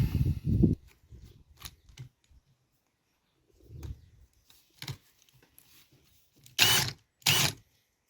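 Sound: valve lapping tool grinding a generator engine valve into its seat

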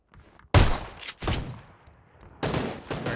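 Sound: shotgun gunfire in the video game PUBG

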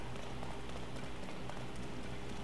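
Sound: rain in video game Tears of the Kingdom

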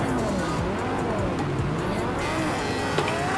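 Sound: race car engine in video game Project Cars 2

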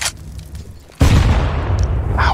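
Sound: grenade explosion in the video game CS:GO

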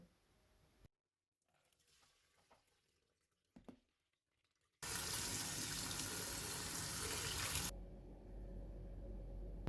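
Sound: rinsing lentils under running tap water

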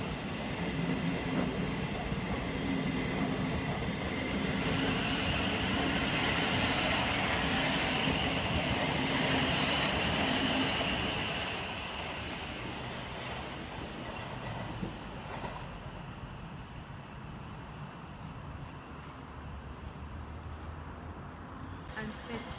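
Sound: Class 700 train arriving at Haywards Heath station

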